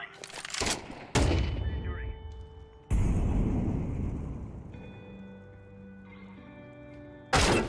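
Sniper rifle fire (SSG) in a shooter video game, a few loud sharp booms with long rumbling tails spaced several seconds apart, under game ambience.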